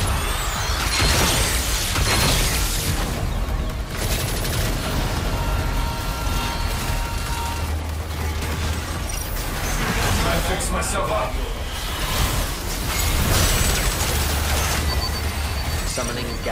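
Exoprimal gameplay brings a grenade blast and gunfire in a dense, continuous roar of explosions, machinery and combat noise, with game voices announcing events over it.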